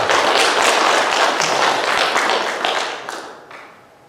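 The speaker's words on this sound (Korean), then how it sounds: "한번 박수 한번 쳐보세요." A church congregation at a Sunday service claps together in a dense burst of applause that holds steady, then fades away toward the end.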